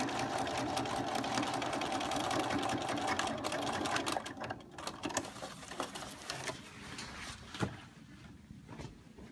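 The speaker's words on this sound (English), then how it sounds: "sew down to that placket again" A sewing machine stitches a contoured waistband, running loud and steady with dense rapid needle chatter for about four seconds, then slowing into softer, broken bursts of stitching.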